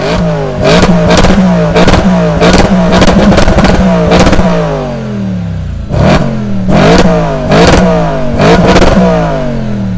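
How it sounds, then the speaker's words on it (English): A naturally aspirated 4.2 V8 in an Audi RS4 Avant limited edition with S tronic and quattro is blipped repeatedly, loud and close from ground level, each sharp rev rising and falling back in a rapid series of throttle stabs. "that's how our stunning Audi RS4 Avant limited edition sounds, that naturally aspirated V8"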